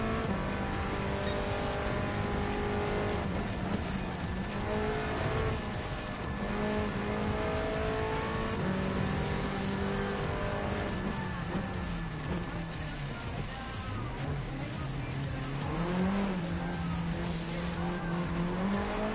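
Race car engines roar and rev in the Gran Turismo 7 video game on the Alpine Hill circuit, with rising and falling gear-shift tones and occasional tyre squeal, loud and continuous throughout.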